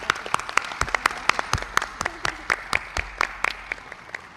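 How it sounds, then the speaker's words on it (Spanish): A small audience at a cultural talk applauds, with a patter of claps that has many distinct individual hits and fades slightly toward the end, heard at moderate distance. "Demos un aplauso"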